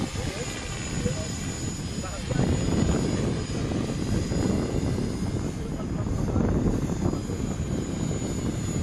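A Robinson R44 helicopter's rotor and engine drone steadily nearby, a pulsing low thrum that swells a little louder partway through.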